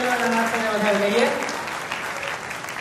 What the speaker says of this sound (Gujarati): અમારા દરેક નાના ભૂલકાઓને એકવાર જોરદાર તાળીઓના નાસ્તાને વધાવી લઈએ.